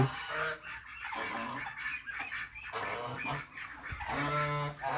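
Domestic geese honk repeatedly and loudly, a nasal clamor of several birds calling over one another with brief pauses in between.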